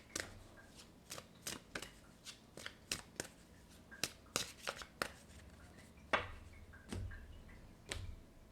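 Tarot cards are handled and one is drawn from the deck, making a run of crisp, close taps and flicks at an irregular rhythm, with a few soft thumps near the end.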